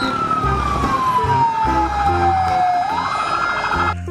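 A loud wailing siren from a red toy ambulance sweeps steadily downward then rises again, over a rhythmic mechanical toy-like backing sound, close and continuous.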